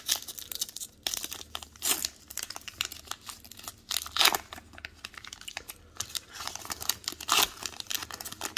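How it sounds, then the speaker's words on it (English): 2022 Topps baseball card packs being ripped open by hand, with repeated crinkling and tearing of foil wrappers in close bursts, no talking. "watch me rip open some packs"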